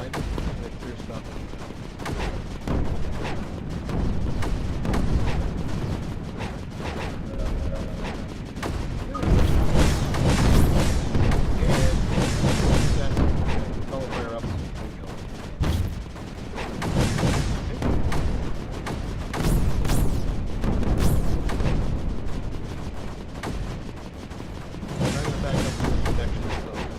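Mortars firing in Creeper World 4 boom and thump repeatedly in dense, overlapping volleys that rise and fall in loudness throughout, with a voice talking over the barrage at times.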